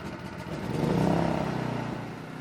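A MaxPeedingRods MXR4000 portable generator engine runs with a steady rattling hum, briefly rising in pitch and loudness before easing back, close by.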